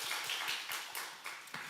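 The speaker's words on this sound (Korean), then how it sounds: "다시 한번 격려의 박수 하겠습니다" Church congregation gives a round of encouraging applause during a Sunday evening service, soft and somewhat distant, quick irregular claps forming a brief steady patter.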